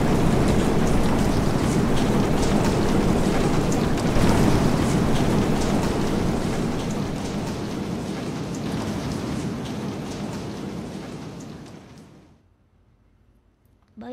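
A stage rain and thunder effect during a live comedy show gives a loud, dense, continuous roar of downpour for about twelve seconds, then cuts off abruptly into near silence.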